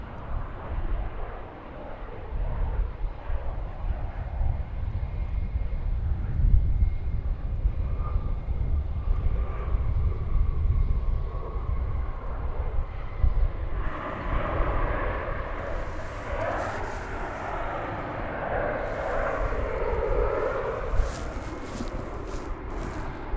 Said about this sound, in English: American Flight 883 is arriving from Querétaro in Mexico.